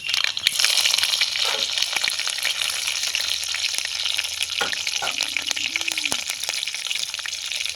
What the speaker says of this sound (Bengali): দিয়ে দেবো কাঁচা লঙ্কা কুচি।